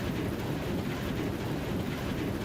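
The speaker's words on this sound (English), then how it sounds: "A diesel locomotive passes overhead with a loud, sustained roar." A loud, sustained low roar with heavy rumbling of a diesel locomotive passing close overhead in a video game, steady and broad throughout.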